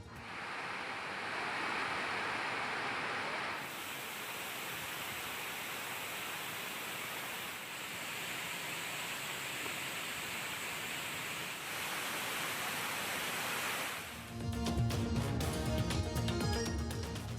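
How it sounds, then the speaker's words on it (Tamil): The Kaviaruvi waterfall in Pollachi, flooding after heavy rain, gives a steady, loud rushing roar of broad water noise; music comes in near the end. "பொள்ளாச்சியில் பெய்து வரும் கனமழையால் கவியருவியில் வெள்ளப்பெருக்கு."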